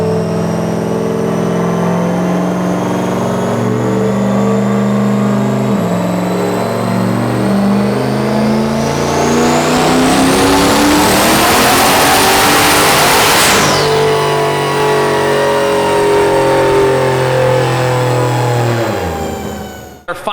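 Turbocharged LS1 Trans Am on a dyno pulls hard through a long, loud rev, engine note climbing steadily with a rising turbo whine to a peak, then dropping off and winding down near the end.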